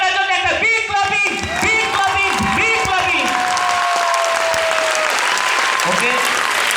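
An audience at a Smart Value seminar bursts into loud, sustained clapping and cheering, dense and close, with voices mixed in under the applause.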